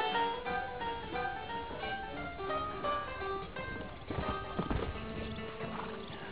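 Saddled horses' hooves clip-clopping in the Western video game Red Dead Redemption, a steady rhythmic plodding over a musical score, with a louder cluster of hoof hits near the end and no talk.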